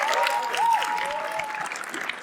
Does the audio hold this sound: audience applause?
yes